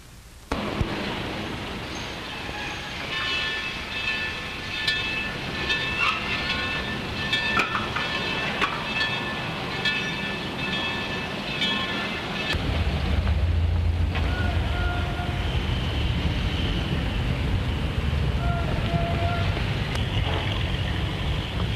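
A 1931 train runs with a steady, continuous rumble and rattle throughout, a low roar swelling louder about halfway through, with faint tonal whines over the noise.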